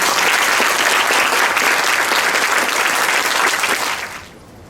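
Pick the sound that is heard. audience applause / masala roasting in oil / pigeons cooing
audience applause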